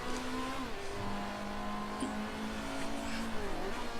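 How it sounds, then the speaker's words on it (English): Race cars in the Motorsport Manager video game run through a braking-heavy track, a steady engine drone rising and falling as they slow and accelerate, with a faint tire squeal and no talking. "Now, I'm listening to where the cars are braking and where they're going fast."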